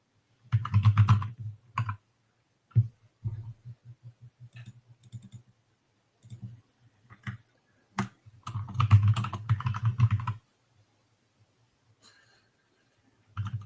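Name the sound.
typing on a computer keyboard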